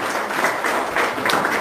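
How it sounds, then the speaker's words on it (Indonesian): An audience at a motivational talk claps together, a continuous burst of applause at moderate volume with faint voices underneath. "Tepuk tangan dong."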